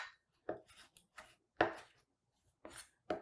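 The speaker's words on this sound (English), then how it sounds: "you can just use your fingers and kind of rip those leaves apart" Fresh salad leaves torn apart by hand, a few short crisp rips and rustles spaced irregularly, close and quiet with no voices.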